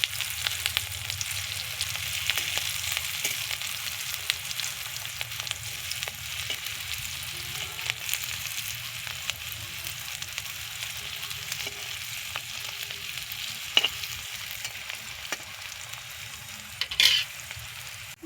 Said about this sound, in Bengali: এইভাবে আস্তে আস্তে উল্টে পাল্টে দেব, যাতে সুন্দরভাবে সব ভাজা হয়